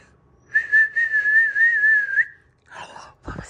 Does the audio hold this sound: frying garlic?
no